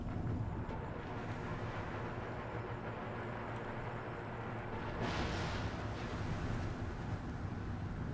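Artillery barrage in the Empire: Total War Warpath video game: a steady, dense rumble of massed cannon fire, loud and continuous throughout, swelling with a sharper burst of impacts midway.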